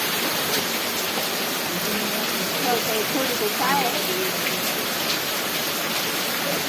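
Steady rain pours down over a village farm during an unseasonal shower, a dense, even hiss that continues unbroken throughout, with faint voices underneath.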